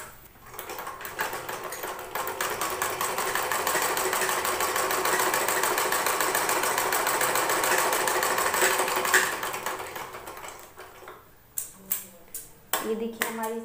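A sewing machine stitches fabric for a latkan in one long, steady, close-up whirring run, then stops, followed by a few short bursts of stitching and handling clicks.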